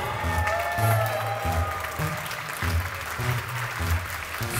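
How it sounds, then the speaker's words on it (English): Crowd applause at the American Beatbox Championships 2022 after a solo top 16 battle, steady clapping and cheering from a large audience running throughout, with low bass beats and a voice over the top. "Can I get a big round of applause right here for Clutch?"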